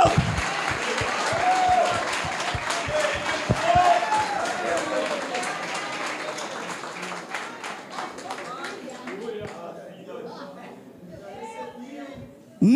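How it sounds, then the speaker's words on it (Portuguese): A church congregation breaks into applause, a dense wash of clapping hands that carries on beneath a voice and swells, then thins out toward the end. "Vamos dar um lindo aplauso, vamos dar um lindo aplauso."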